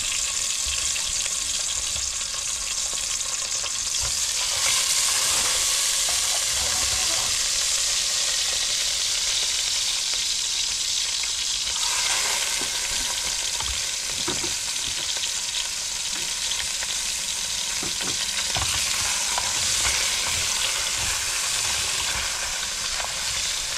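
Fish and garlic fry in a hot pan with a steady, loud sizzle and occasional stirring, continuing without pause for over twenty seconds.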